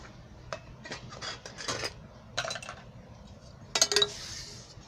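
Steel idli plates filled with healthy idli batter being set into an idli steamer in a home kitchen, a handful of close metallic clinks and scrapes with short pauses between them, no talking.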